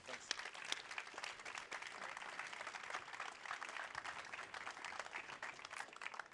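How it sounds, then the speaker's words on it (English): Audience applause at a ChangeNOW 2022 conference session after a panel talk, a dense patter of claps that holds steady across the whole stretch, heard faintly and at a distance. "Let's give them a round of applause."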